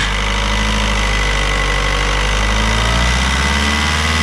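A VW Audi 1.9 TDI 110 hp diesel engine with hard starting runs loudly and steadily close by, a rough clattering drone that keeps going and then begins to fall away at the end.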